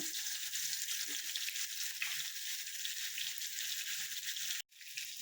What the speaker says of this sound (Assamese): এতিয়া আমি মাছ ভাজা তেলতে ফুলকবিখিনি অলপ ভাজি ল'ম